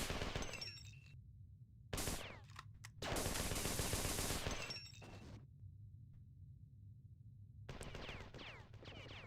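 Video game gunfire from an enemy arrives as sharp, loud bursts of shots with glassy shattering, separated by quieter gaps, the heaviest volley in the middle and another flurry near the end.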